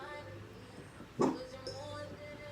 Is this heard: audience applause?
no